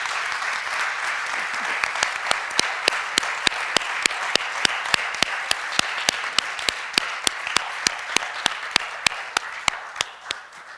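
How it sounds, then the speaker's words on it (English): Audience applause for a speaker after an evening museum talk, a soft wash of clapping punctuated by one sharp, regular rhythmic clap close by, sustained for about eleven seconds before fading. "Should we give Harry a round of applause?"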